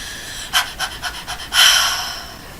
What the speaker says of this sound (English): for a pant, we're gonna breathe in and out 5 times each. So it'll be really fast